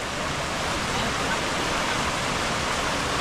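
A steady, loud roar of rushing floodwater fills the scene without pause, broad and hissing like a fast-moving flood current.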